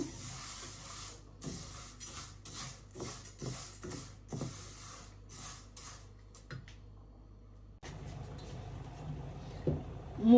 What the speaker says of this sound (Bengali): মুগ ডালটা ভেজে নেই